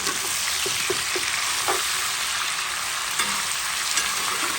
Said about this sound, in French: Les oignons travaillent dedans.